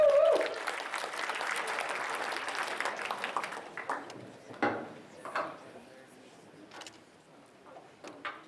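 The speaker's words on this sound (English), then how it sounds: "Let's give a round of applause for MLH." An audience at a hackathon opening ceremony applauds, starting loud and dense, then thinning into scattered claps and a few handling knocks.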